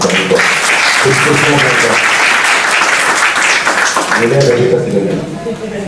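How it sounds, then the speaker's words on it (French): Audience applause at a French presentation on healing, loud sustained clapping with voices mixed in under it, ending with a slight fade. "Pour ça, ça vaut vraiment les applaudissements."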